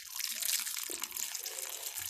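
Boiled water streams steadily from a container in a home kitchen, a continuous splashing pour with a bright hiss that stays fairly close and even throughout, with no talking.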